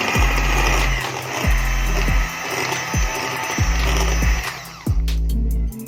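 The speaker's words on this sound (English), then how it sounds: "Add caster sugar, and then we blend it" An electric mixer blending caster sugar in a bowl for a sticky toffee pudding, giving a loud steady whirring drone with regular pulsing dips and knocks roughly every second, close by with no talk.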